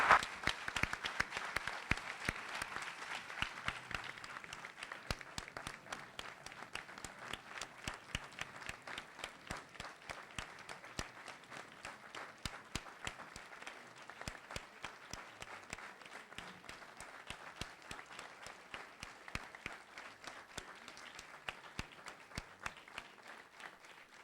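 Enthusiastic, sustained applause from the audience at a literary academy anniversary and prize ceremony, dense clapping with distinct sharp claps standing out, continuing steadily for over twenty seconds.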